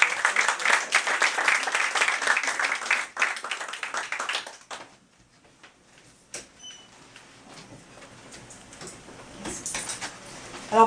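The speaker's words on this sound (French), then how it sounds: "On l'applaudit, mesdames et messieurs" An audience at a poetry evening applauds Belinda Campbell, brisk clapping for about four seconds that stops abruptly, followed by quiet room sounds and rustling.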